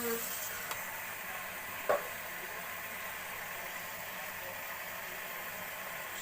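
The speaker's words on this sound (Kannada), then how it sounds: "ಮಾಂಸದಲ್ಲಿ ಇರುವ ನೀರೆಲ್ಲ ಹೋಗೋ ತನಕ ಫ್ರೈ ಮಾಡಬೇಕು" Mutton frying in a pan gives a steady, quiet broadband sizzle throughout. A single brief scrape or tap sounds near the start, and no talk is heard.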